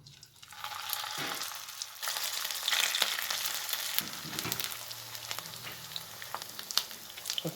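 Oil sizzles steadily in a pan as onions fry for an aloo seekh kabab gravy, a close hiss with occasional stirring clicks and scrapes and no talking.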